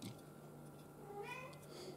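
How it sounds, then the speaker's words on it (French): A pet cat meows in a room, with a couple of short rising cries near the end over steady low background hum, while a bit of voice is also present. "C'est mon chat. Quand il miaulait, il aime bien miauler."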